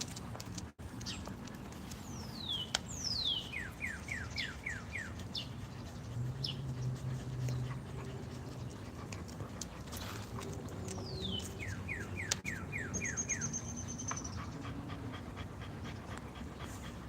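Dogs at a kennel whimper and pant, with high whining glides and rapid repeated yips over steady breathy panting, chirping birds mixed in the background throughout.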